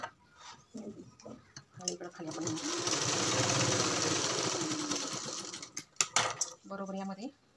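A sewing machine runs a steady stitch along the edge of blouse fabric for several seconds, framed by someone speaking before and after the whirring burst.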